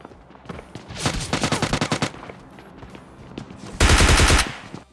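Automatic gunfire from the PUBG Lite battle royale game rattles out in two loud rapid bursts, the second denser and heavier, with softer shuffling between them.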